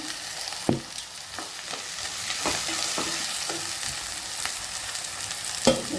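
Tomatoes fry with a soft, steady sizzle for chicken kothu chapati, punctuated by occasional scrapes and taps of a spoon stirring the pan; close and fairly quiet.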